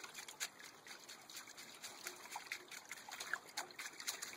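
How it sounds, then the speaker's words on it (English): Water trickles and splashes gently as sluice mats are rinsed in a small creek, with soft intermittent sloshes under a continuous faint flow. "Sometimes just bounce it on the water a little bit."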